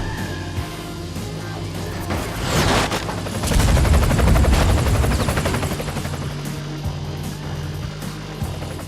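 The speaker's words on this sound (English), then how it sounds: "The helicopter noises are so good." A helicopter's rotor thrums steadily in the racing video game Split/Second while a loud burst of rapid gunfire swells in the middle, then the steady whir carries on alone.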